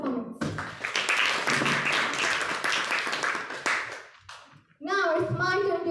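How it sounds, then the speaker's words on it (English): Meeting audience clapping for evaluators and assignees, a dense run of handclaps filling most of the stretch before fading; a voice begins speaking near the end. "let us give a big round of applause to all these evaluators and assignees for their excellent performance."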